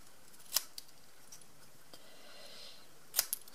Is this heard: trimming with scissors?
yes